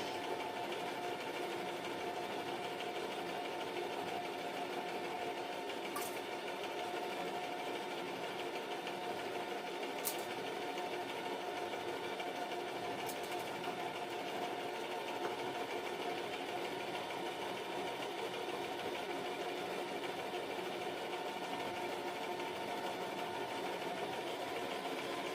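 A sewing machine stitches sample clothes, giving a steady, continuous mechanical whir and hum that holds at an even level throughout, with a few faint clicks and no talking.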